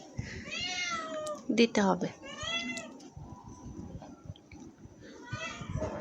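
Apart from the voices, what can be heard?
cat meowing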